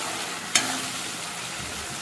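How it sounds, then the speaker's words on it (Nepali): Potatoes and pointed gourd frying over a low flame in a pan give a steady soft sizzle, with one sharp clink of a utensil against the pan near the start. "मजासँग भुट्छु।"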